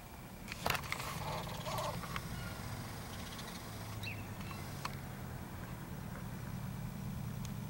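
A crow caws a few times, loud and near, early on, followed by scattered fainter calls over a steady low idling engine hum in an outdoor setting.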